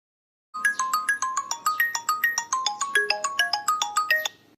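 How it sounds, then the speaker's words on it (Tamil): A phone rings with a bright, melodic ringtone of quick repeated chiming notes in a steady pattern, clear and close, after a moment of silence. "நம்ம ஃபோன் தான் அடிக்கி"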